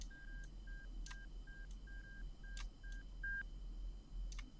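A missile warning tone in a jet flight simulator game, the Chinese bias jet, repeats as short even beeps in a steady pulsing rhythm, fairly faint against a low hum, with occasional sharp clicks between them.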